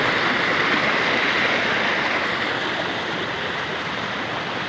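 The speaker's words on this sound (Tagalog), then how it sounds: "falls din yan mga ka-idol." Kipot Falls in Montalban, Rizal pours in a steady, dense roar of falling water, loud and close, unbroken from start to finish with no voices over it.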